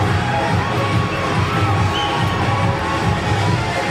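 A noisy crowd of picnickers spread through a flower park, heard as steady murmuring chatter with occasional shouts in the distance.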